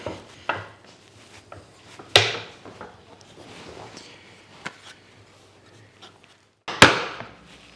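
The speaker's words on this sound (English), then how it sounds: "Chisel out the bottom." Chisel strikes clearing waste wood from a mitered dovetail joint, a handful of sharp, close knocks spaced irregularly, with quieter scraping between them and two loud blows near the start and end.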